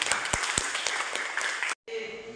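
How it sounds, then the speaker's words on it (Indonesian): A short burst of applause in a classroom after a group presentation, dense rapid clapping that stops abruptly, followed by a moment of room quiet. "tepuk tangan dulu"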